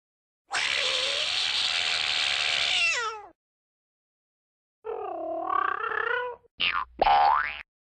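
Cartoon cats in a matching video game give drawn-out synthetic meows, one long bending cry followed after a pause by a warbling call and two quick springy mews, loud and isolated against silence.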